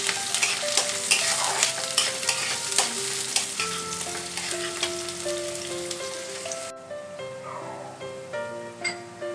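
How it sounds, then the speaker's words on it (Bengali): Chopped onion fries in a pan for ghugni, a steady crackling sizzle with frequent stirring scrapes and clinks, while faint background music plays throughout. "এবার এই পেঁয়াজ কুচিটাকেও আমরা একটু ভেজে নেব।"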